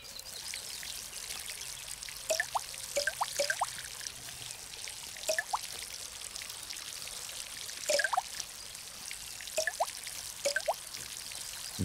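Water pouring from a watering can onto plants in a garden simulator game, a steady soft splashing stream under a broad hiss, with brief bright droplet chirps scattered throughout.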